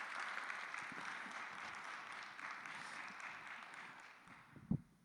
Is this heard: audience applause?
yes